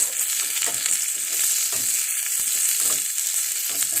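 Curry leaves, shallots and crushed ginger garlic paste fry in a pan while being mixed, giving a loud continuous sizzle broken by repeated scraping strokes of the spoon, close and with no talking.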